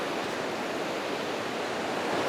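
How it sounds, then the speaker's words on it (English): River Findhorn in Scotland running high after heavy rain, a dense, steady roar of rushing water heard up close and unbroken, with no voices. "This river that I'm at right now is the River Finhorn."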